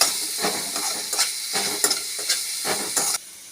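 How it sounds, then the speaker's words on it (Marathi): Green chillies and ground spice paste fry in hot oil with a bright, steady sizzle, broken by several rhythmic bursts of stirring, then cut off abruptly near the end. "आता मिरची आपण तेलामध्ये टाकलेली आहे वाटण घेतलेली त्यावर मिक्सअप करणार आहोत"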